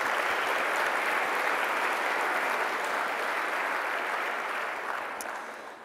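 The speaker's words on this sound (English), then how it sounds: "let's give a well-deserved round of applause to everyone who has made this conference possible" Conference audience applauding after opening keynote remarks, a dense, steady wash of clapping throughout that tapers off slightly at the end.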